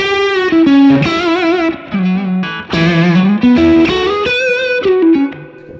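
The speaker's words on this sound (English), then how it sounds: "then when I crank the volume on the guitar" Electric guitar through a DrZ Maz MKII amp with the volume cranked and heavy reverb plays a loud, distorted, sustained melodic line of bending notes with short pauses, and no voices.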